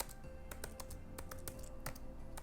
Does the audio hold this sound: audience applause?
no